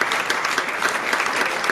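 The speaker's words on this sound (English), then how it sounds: "big round of applause for him" Audience at a magic show in Chicago applauding, a dense steady patter of many hands clapping close by, brief and loud.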